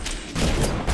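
A turret fires in BioShock Remastered: a short burst of gunfire that swells after a brief quieter moment and stays loud and dense to the end, with no voices over it.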